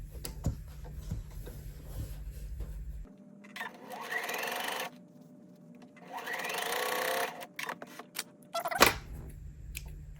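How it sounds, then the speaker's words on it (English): A sewing machine stitches a quarter-inch seam on quilt block pieces, running in two steady close bursts of rapid whirring separated by quieter pauses and handling clicks. "I'm going to sew a 1/4-inch seam here and here"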